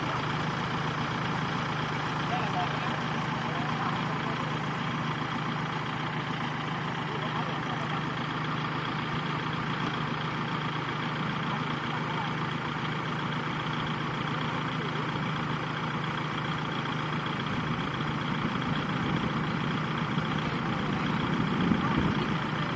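A Kubota tractor engine runs steadily with a constant low rumble throughout, unchanging and fairly loud, while the tractor is stuck in deep mud.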